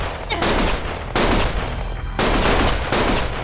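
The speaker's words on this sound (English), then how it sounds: "Stop shooting!" Bursts of gunfire in the video game Lost Judgment arrive as three long, dense volleys of rapid shots, loud and close, with short gaps between them.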